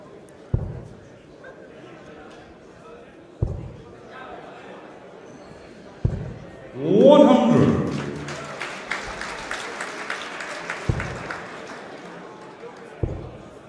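Darts crowd at the 2014 German Darts Masters applauds and cheers for Jyhan Artut: a swell of clapping and shouts rises midway and trails off, with a commentator talking before it and sparse sharp thuds around it.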